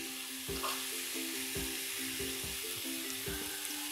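Red chillies for chutney stirred in a pan over a medium flame: gentle frying hiss with a regular series of spoon scrapes against the pan, roughly one every half second, no voices.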